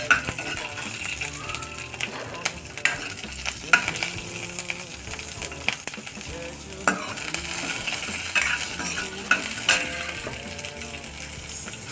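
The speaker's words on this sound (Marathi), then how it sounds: "हिरवी मिरची आणि कोथिंबीर जेव्हा आपण तेलामध्ये फ्राय करतो" Green chilli and coriander fry in hot oil, giving a steady close sizzle with frequent stirring scrapes and clinks of a utensil against the pan throughout.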